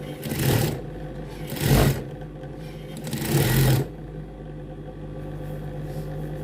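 Sewing machine stitching a trouser pocket, three short loud whirring runs of rapid needle clatter separated by quieter pauses with a low background hum.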